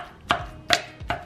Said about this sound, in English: thanks to Kim, she's chopping it for me.